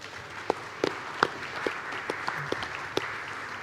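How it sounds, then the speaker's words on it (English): Scattered audience clapping at a basketball draw ceremony for the FIBA Intercontinental Cup 2023, with sharp individual claps spread over a steady room murmur, moderately loud and with no talking over it. "Round of applause."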